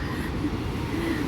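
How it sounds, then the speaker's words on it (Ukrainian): A low, steady rumble of a train passing near the Rhine Falls carries on without a break, mid-distance and even in level, with no talking. "ще один потяг"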